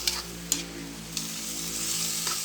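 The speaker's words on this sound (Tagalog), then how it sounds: "Saka natin ulit haluin." Food cooked with soy sauce stirs in a frying pan: a steady close sizzle with a few sharp scrapes of the utensil against the pan, and no talk.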